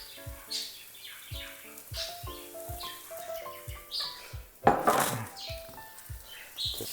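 Beetroot and lentils being stirred together with olive oil and chili flakes, a spoon clinking and scraping against the bowl in irregular bursts beneath background music, with one louder clatter midway.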